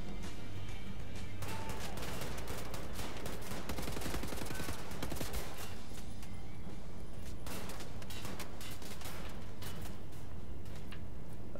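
Shotgun fire in Wolfenstein: The New Order booms in rapid, overlapping blasts throughout, a dense and continuous barrage of close gunfire with little pause.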